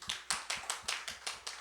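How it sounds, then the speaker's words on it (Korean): A church congregation claps in a steady rhythm, about eight sharp, evenly spaced claps in unison, close and fairly loud, with no voices. "우리 한번 박수 한번 쳐줘"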